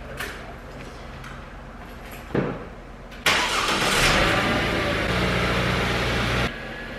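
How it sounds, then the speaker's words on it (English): A manual-transmission car's engine cranks and catches about halfway through, then settles into a steady, fairly loud idle after a quieter stretch of background rumble and a brief thump. "I need to move my brother's car and it's stick shift"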